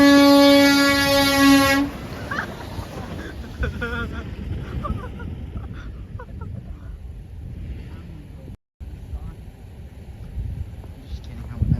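A truck air horn blasts loud and sustained for about two seconds at a truck horn show, then cuts off to crowd noise and people talking with fainter distant honks.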